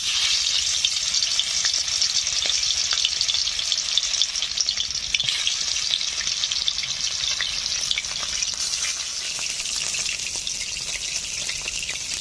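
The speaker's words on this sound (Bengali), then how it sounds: "মাছগুলোকে এখন ভেজে নিচ্ছি।" Pieces of ritha fish fry in hot mustard oil with a dense, continuous sizzle heard up close and at an even level throughout, with no one speaking.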